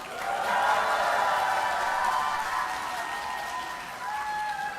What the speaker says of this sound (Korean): 쫄지 말라고 박수 한번 부탁드리겠습니다.